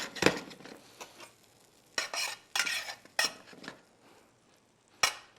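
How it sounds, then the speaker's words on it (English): Butter dropped into a hot pan gives a faint sizzle with scattered scraping and stirring knocks, in a few short bursts separated by quiet gaps, with no talk. "Add our butter to the pan."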